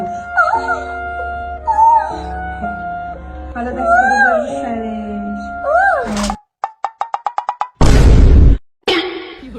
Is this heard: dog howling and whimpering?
yes